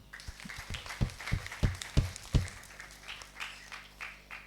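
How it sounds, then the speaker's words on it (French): Children and adults in a church congregation clap together in a short burst of uneven, fairly close hand claps that start sharply and trail off into scattered claps after a few seconds. "On acclame."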